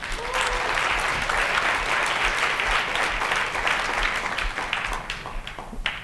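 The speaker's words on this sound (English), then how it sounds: "I think you guys should all give them a round of applause." A conference audience at a design event applauds, a dense, loud wash of many hands clapping that holds steady for several seconds before thinning out at the end.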